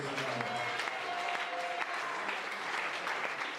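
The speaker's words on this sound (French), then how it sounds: "Est-ce que tu peux acclamer le Seigneur?" A church congregation at a prophetic gathering in Toumodi applauds steadily to acclaim the Lord, a dense, continuous clapping with a faint voice and a held tone threading through the first half.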